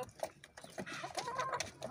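A hen with growths on its comb clucks repeatedly in short, close bursts while it drinks, a few soft clucks blending with faint background noise.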